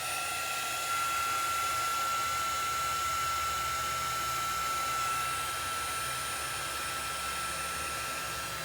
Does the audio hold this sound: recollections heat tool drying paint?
yes